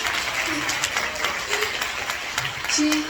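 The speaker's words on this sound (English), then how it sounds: "Can I have another round of applause for Rajam Aunty?" Audience applause at a women's gathering event, a steady clapping crowd lasting the whole moment, with some voices mixed in over it.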